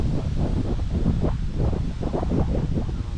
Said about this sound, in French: on a le vent dans le dos là